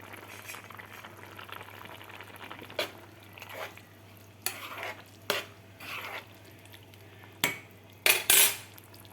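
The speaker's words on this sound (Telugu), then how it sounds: "ఈలోగా మనం కొత్తిమీర జిమ్ముకుందాం" Fresh coriander being chopped for a potato curry, heard as several sharp, separate knife strikes on a board, irregularly spaced over a quiet kitchen background with a steady low hum.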